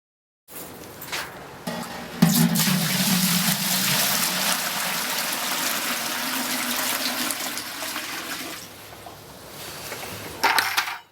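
A continuous stream of strike water pours noisily into a homebrewing boil kettle for several seconds, starting and stopping abruptly, with a brief clatter near the end.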